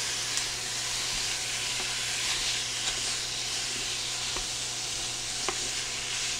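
Ground beef, about a pound or more, sizzling in a large skillet over medium-high heat while being broken up, a steady loud hiss with occasional faint scraping taps.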